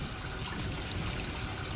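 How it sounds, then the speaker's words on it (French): Spring water runs briskly into a small canal, a steady, fairly loud rushing and trickling with no pauses and no voices. "il y en a une eau qui coule avec vivacité et qui alimente ce petit canal"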